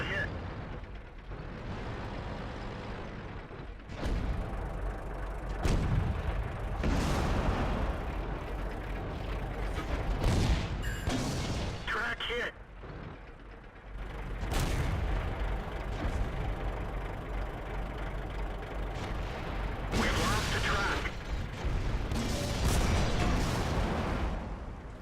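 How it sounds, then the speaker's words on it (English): Tank cannons trade shots in World of Tanks as a Ferdinand duels a KV-5 side by side. Heavy booms and blasts come at intervals over engine and track rumble, with someone narrating throughout. "We begin to exchange shots with them, again, side by side."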